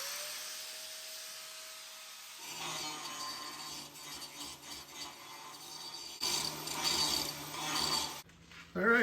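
A grinder cuts off the cab bolts on a 1947 Chevy truck: a faint steady whine gives way to harsh, rough grinding that surges and dips in uneven bursts, growing louder toward the end.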